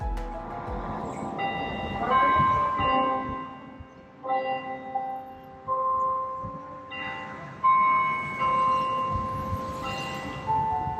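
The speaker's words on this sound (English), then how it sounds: "This is the actual sound of the bells in the church." Church bells in Amherst, Nova Scotia ring out in slow, sustained tolls with long humming overtones, fairly distant, each strike fading into the next over a low background rumble.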